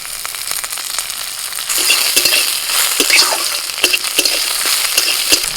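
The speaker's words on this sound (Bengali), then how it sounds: "তেলের মধ্যে দিয়ে দিচ্ছি রসুন শুকনো লঙ্কা আর কাঁচা লঙ্কা কালো জিরে" Garlic, dried and green chilies and nigella seeds sizzle in hot oil, a steady crackling hiss that grows louder partway through, with occasional scrapes of stirring.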